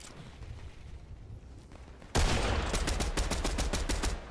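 Gunfire in the Fortnite video game: quiet background for two seconds, then a sudden loud burst followed by a rapid, steady string of shots ringing out close and alone until the end.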